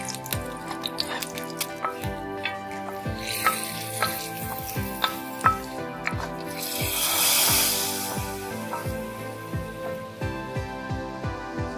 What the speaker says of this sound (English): As soon as you add the red chili powder, you need to add this tadka into the curry.